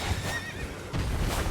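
A horse neighs and whinnies in the Elden Ring video game, a loud close call with hoofbeats and gameplay sounds continuing underneath for a second and a half.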